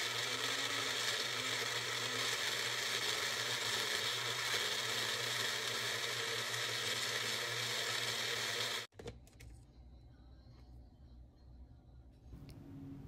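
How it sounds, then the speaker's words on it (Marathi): A mixer grinder whirs loudly and steadily while pureeing tomatoes, a dense continuous motor drone that cuts off abruptly near the end, leaving quieter kitchen room noise. "आपण आता मिक्सरच्या जारमध्ये टोमॅटो घालूया आणि त्याची प्युरी बनवून घेणार आहोत."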